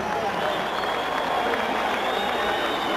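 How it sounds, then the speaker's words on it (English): Boxing arena crowd applauding and cheering for challenger Vinny Pazienza, a dense, steady wash of clapping and voices that stays loud and close for the whole stretch. "A round of applause for the game challenger who came in here tonight"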